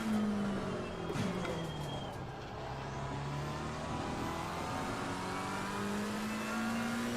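A race car in the game Assetto Corsa Competizione accelerates around the Nürburgring, its engine pitch climbing and dropping through gear changes in a steady, moderately quiet stream of revving with no voice over it.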